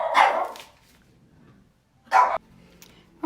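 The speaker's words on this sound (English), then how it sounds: "I had to stop just a minute because my dogs were barking" Pet dogs bark indoors in two short bursts separated by a quiet gap, fairly close and loud, with no talking over them.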